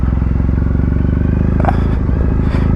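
BMW G310R motorcycle ridden off-road on dirt, its engine droning loud and steady throughout with a brief rattling clatter midway.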